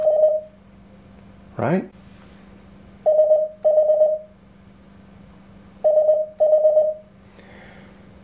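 Morse code tones beep in short and longer bursts of a steady pitch over a faint hum, spaced into groups, with a brief spoken word between them.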